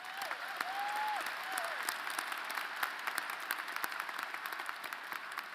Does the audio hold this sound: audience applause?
yes